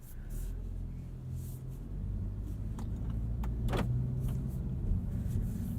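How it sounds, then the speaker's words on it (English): A 2022 Honda Civic Touring sedan on the road, with a low steady engine and road rumble from inside the cabin that builds slightly, and a few faint clicks and ticks over it. "let's take this new Civic for a drive and see what it's like on the road"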